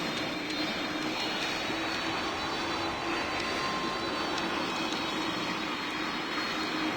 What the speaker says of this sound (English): And now let's take off here